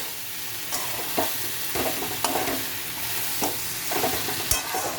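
Soybean and cauliflower curry being stirred in a pan, a steady sizzle broken by several distinct scraping strokes of the spoon, close and alone with no voices.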